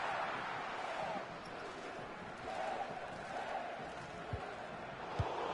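Stadium crowd roaring and cheering steadily at a USA vs Sweden women's football match, a broad sustained wash of voices with a couple of sharp thumps near the end.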